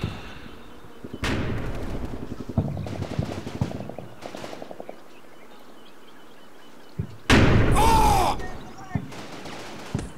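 Mortars exploding in a military video game, with several separate heavy bursts spread out over time, including rattling gunfire and one loud near blast late on, with quieter gaps between them.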